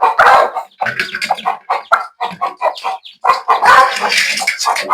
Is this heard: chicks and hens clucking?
yes